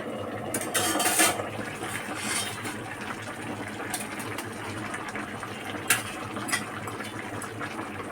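A pot lid lifted off a simmering Bengali vegetable curry with potatoes, papaya and carrots, giving a brief metallic clatter near the start over a steady bubbling, hissing simmer, followed by a few small clinks.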